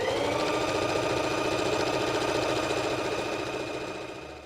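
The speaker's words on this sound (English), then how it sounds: "I'm going to sew right along the edge of the serging" A sewing machine stitching a pinned hem on pajama pants along the serged edge, a continuous, even mechanical whir running close and loud, then trailing off at the end.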